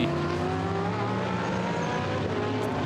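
GT race cars, a Ferrari and a Mercedes from the Blancpain GT Series Sports Car Club race, running together with steady high engine drone and layered harmonic whine, continuous and fairly loud, no voices.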